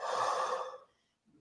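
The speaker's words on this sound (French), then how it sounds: "Il y a pas mal de bâillements là." A person yawning, one long breathy exhale that fades out after under a second, close and fairly loud, followed by a faint breath.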